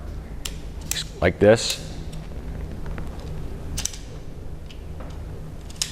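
A collapsible flag pole carrying a Gen 6 Bronco flag is pulled apart, giving a few sharp creaks and clicking metal-on-metal rattles close by, with someone talking briefly over it.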